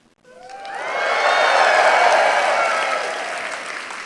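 A large comedy show audience breaks into loud cheering, whooping and applause. The crowd noise rises quickly, holds for a few seconds, then begins to fade.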